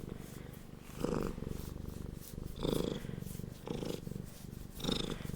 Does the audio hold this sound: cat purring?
yes